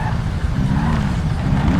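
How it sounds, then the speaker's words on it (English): A steady, loud engine drone from a car in GTA V fitted with a Mitsubishi engine sound, a continuous low rumble with no change in pitch and no talking over it. "I'm using the engine sound that it's supposed to be a Mitsubishi."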